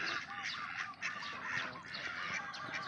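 A flock of ducks quacks repeatedly and overlapping, a busy chorus of nasal calls at moderate distance, fairly quiet overall.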